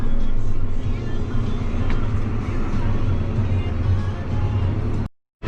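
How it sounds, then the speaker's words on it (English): A school bus rumbles along a rural road with a steady low engine drone that holds close and loud, then cuts off abruptly near the end. "There's a school bus coming this way."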